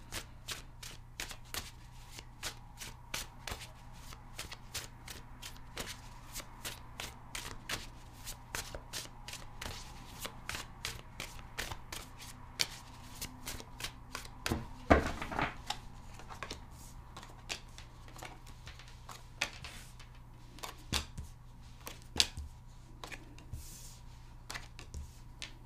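Tarot cards being shuffled at close range, a long run of soft riffling clicks and flutters over a steady low background hum.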